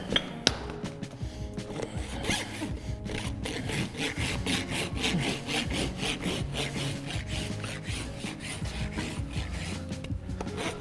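A rasp scrapes rhythmically across a horse's hoof during a barefoot trim, with repeated close, gritty back-and-forth strokes in a steady cadence that continues throughout, occasionally punctuated by sharp knocks near the start.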